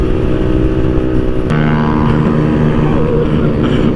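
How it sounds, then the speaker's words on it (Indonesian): Motorcycle engine, a Honda Vario scooter racing an Aerox on the road, revving loud and close with the note rising sharply partway through and holding a strained, buzzing pitch to the end, with no voices. "Bocahnya ngegas mulu"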